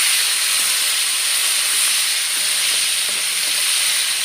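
Halved tomatoes hitting hot oil in a pan, a loud, steady hiss of spluttering and frying that holds evenly throughout with no voices.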